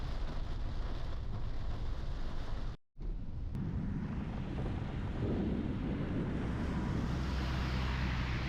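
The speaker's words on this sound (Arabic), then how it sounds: "ازدادت غزارة المطر المصحوبة بالبروق والرعود الشديدة" Heavy storm rain in Asir pours down with wind buffeting the microphone, a dense continuous roar broken by a brief dropout, with a rumble that may be thunder under the downpour.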